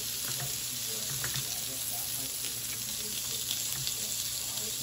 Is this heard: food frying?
yes